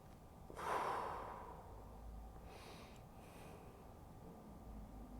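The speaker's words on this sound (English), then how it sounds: "And breathing." A single slow, deep breath during a stretching routine, a soft airy exhale that swells early and then fades into quiet, close to the microphone.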